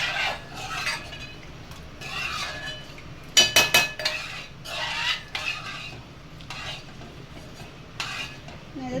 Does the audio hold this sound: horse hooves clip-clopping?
no